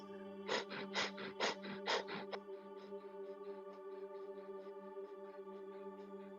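Kundalini breath of fire: about seven rapid, forceful breaths in a quick even rhythm, close to the mic, then trailing into a softer pulsing sound over a steady tonal drone.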